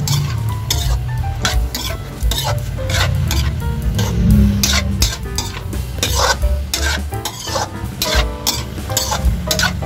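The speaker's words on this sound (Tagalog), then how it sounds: "Halu-haluin lang natin." Pork with fish sauce is stirred in a cooking pot, with steady sizzling and repeated scraping and clanking of a utensil against the pot, close and continuous.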